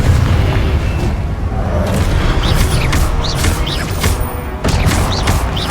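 Spell explosions and magical combat effects from the Hogwarts video game, a loud continuous barrage of booms and bursts with sharp whooshing zaps layered throughout, with no gaps.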